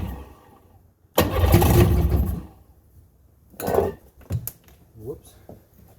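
A 1996 Sea-Doo GTI jet ski engine fires up and runs in a loud rough burst of about a second, then drops away as a person talks nearby with small clanks in between.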